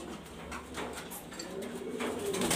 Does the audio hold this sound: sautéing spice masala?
no